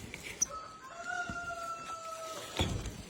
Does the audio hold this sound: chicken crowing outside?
yes